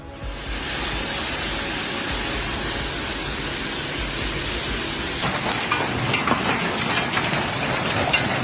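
Heavy storm rain pours down during a flash flood in Lexington, Kentucky, a dense, steady roar of rainfall that grows harsher and more textured partway through, with no voices.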